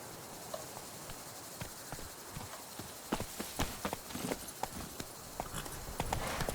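Horse hooves clip-clop at a steady walking pace in The Witcher 3, a string of crisp, fairly close knocks that grow denser and a little louder toward the end, with no talking.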